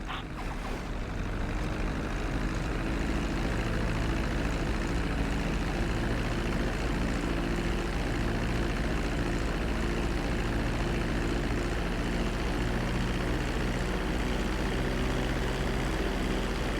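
Prop airplane in GTA V sinking toward a runway for landing, a steady loud engine drone with a low hum holding evenly throughout, no voices.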